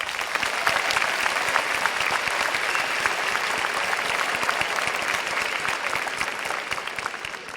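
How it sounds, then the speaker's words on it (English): Audience applause at a 2022 high school graduation ceremony, a steady, dense wash of many hands clapping that holds evenly for several seconds without a break. "Please give him a round of applause."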